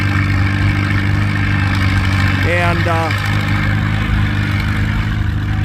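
A vintage WD6 tractor engine idles steadily at a plow day, a loud, close, low rumbling drone that runs throughout, with a brief voice cutting in over it.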